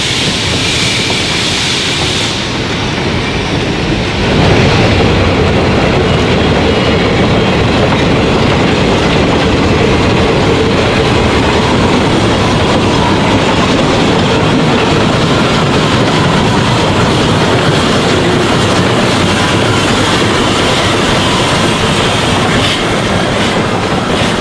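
Cass Scenic Railroad train switching cars, a steady loud rumble of wheels and rolling cars close by with a continuous metallic clatter throughout.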